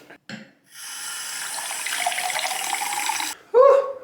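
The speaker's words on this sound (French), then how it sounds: "je vais essayer d'attraper un verre et de me servir de l'eau parce que j'ai soif" Tap water runs steadily for about two seconds, pouring into a glass while someone sits in a bathtub, with a short splash before it and a voice speaking right after it stops.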